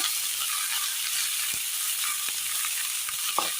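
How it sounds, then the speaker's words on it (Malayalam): Split green chillies sauté in hot oil in a pan, giving a steady, even sizzle throughout, with a few faint stirring taps near the end. "നന്നായി ഒന്ന് വാട്ടിയെടുക്കാം"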